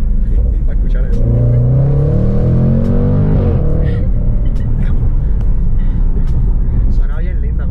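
A supercharged 2020 Jaguar F-Pace SVR engine revs hard and climbs through several gear changes, pitch rising and dropping, with a deep continuous rumble close by.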